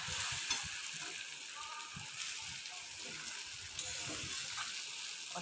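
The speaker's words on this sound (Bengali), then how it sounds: "চিকেন দিয়ে দিলাম, এবার কষিয়ে নিলাম ভালোভাবে" Chicken frying in hot oil while being stirred, a constant bright sizzle with soft clacks and scrapes from the stirring, close and steady throughout.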